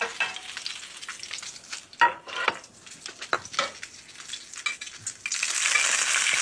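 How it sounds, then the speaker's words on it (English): Salmon fillet sizzling in hot oil in a saute pan, a close, bright crackling hiss with a few light pan clinks, growing louder and denser toward the end. "As soon as that hot oil hits the liquid that's in the flesh, it starts to sizzle more because it's pulling out moisture."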